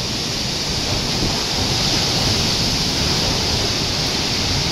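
A strong typhoon produces a loud, constant rush of wind and heavy rain close by, a thick, unvarying roar with no talking.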